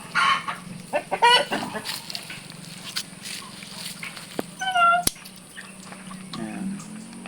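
Chickens cluck and squawk intermittently nearby in a backyard vegetable garden in the Philippines, over a steady background hum, with people talking at moments.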